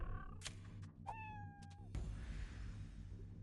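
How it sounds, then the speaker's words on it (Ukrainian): Cartoonish cat meows from the video game Fallout Shelter, a short call followed by a longer tonal meow, with clicks and thumps of game effects around it, quiet overall. "Кіт."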